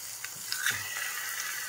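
Hamburger patty and onions frying in a pan, a soft steady sizzle with faint crackles and a light clink, quiet and close with no talking.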